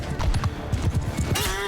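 Galloping cavalry hoofbeats from Mount & Blade II: Bannerlord thud in a rapid, uneven clip-clop rhythm, loud and close, and a horse whinnies briefly near the end.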